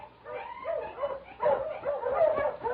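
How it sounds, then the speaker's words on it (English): A husky dog on a snowy northern trail in an old radio drama whimpers and gives short yips and barks in uneven bursts, fairly close and plaintive, with no speech over it. "suddenly I heard a dog"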